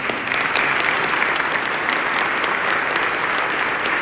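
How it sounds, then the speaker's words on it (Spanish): A room full of people applauds Juan Antonio in San Luis Potosí, a dense, even wash of clapping that holds steady throughout with no voices on top. "Hoy yo de verdad quiero que te demos un aplauso si me lo permites."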